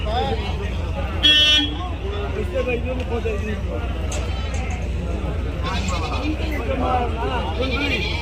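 A Sirohi breed billy goat at a livestock market in Tirupati bleats in one short, loud burst near the start, then softer calls rise later over a steady crowd murmur, engine rumble and an occasional car horn.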